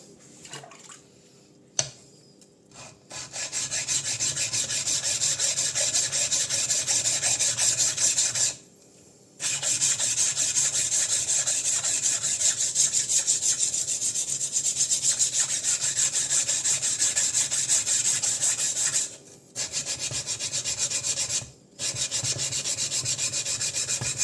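Yanagiba knife blade sharpened on a worn, no longer flat sharpening stone: steady, loud, close rasping strokes sustained for long stretches, broken by a few brief pauses, with no talking.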